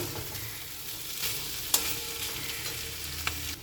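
Aloo posto, potatoes in poppy seed paste, stirred in a pan: a soft, steady sizzle with light scraping and a couple of sharp clinks of the spoon against the pan.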